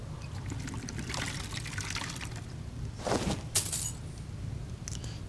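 A drink is poured in a video game tavern, a soft trickle of liquid rising briefly, with faint clinks and quiet room ambience around it.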